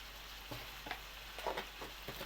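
Goat meat is stir-fried in a pan with turmeric and chilli powder, giving a soft steady sizzle with several quiet scraping stirs spread across the short moment, with no talking.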